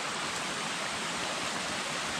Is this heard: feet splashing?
yes